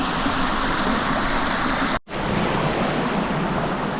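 Khlong Lan waterfall in mid-February: steady, loud rushing water with a dense, even roar that continues through a brief break partway through.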